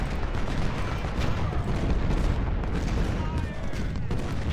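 Artillery fire in the Civil War strategy game Ultimate General: Civil War, a dense continuous rumble of overlapping cannon booms and musketry at a constant loud level throughout.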